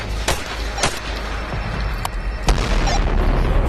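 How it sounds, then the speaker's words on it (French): Explosions in the VR tactical shooter Tactical Assault: several sharp, loud booming blasts, the strongest near the start and another around midway, over a constant low rumble of game ambience. "Ça, c'est une explosion."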